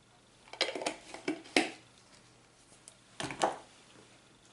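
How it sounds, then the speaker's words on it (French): A utensil scraping and knocking against a bowl while flour and vanilla are mixed into cookie brownie dough, a few irregular clinks and scrapes in two short clusters, close and fairly quiet. "Et on mélange jusqu'à obtenir une belle pâte"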